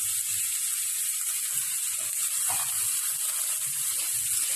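Onion and green chili paste sizzling in hot oil in a village-style home kitchen, a steady, even hiss throughout with faint low bubbling underneath, no talk.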